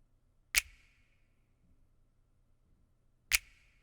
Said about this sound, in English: we just have this snap